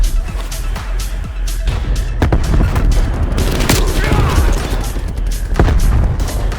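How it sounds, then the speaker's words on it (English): Video-game gunfire in Call of Duty Black Ops Cold War as enemy counter fire comes in: dense, loud bursts of automatic shots and booming impacts run through the whole stretch, close and continuous. "Enemy counter fire inbound."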